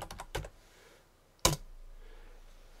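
A few sharp keystrokes on a computer keyboard, with a quick cluster of taps near the start and one louder isolated key press about a second later, close and clear in a quiet room.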